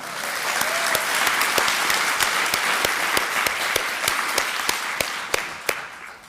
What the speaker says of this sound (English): So in her absence, let's applaud her